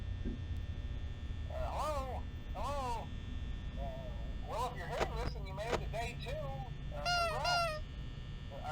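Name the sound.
Freddy's nose honk in video game Five Nights at Freddy's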